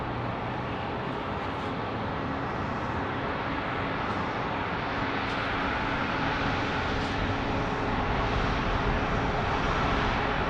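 An airliner arriving at Phoenix Sky Harbor airport, heard as a continuous broadband jet roar that builds slightly over about ten seconds and never drops away.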